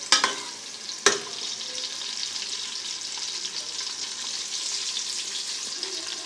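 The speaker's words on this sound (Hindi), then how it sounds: "प्याज ब्राउन कर लेंगे हम।" Onions frying until brown in a pan make a constant close sizzle and crackle after two sharp knocks at the start, an even hiss throughout with no talking.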